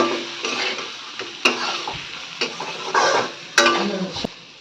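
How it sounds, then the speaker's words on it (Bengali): A spice paste with cumin and chili powder being stir-fried for a large fish curry, soft sizzling broken by rhythmic scrapes and knocks of a spatula against the pan. "আর দেব লঙ্কা গুঁড়ো কষিয়ে নেব মশলাটাকে"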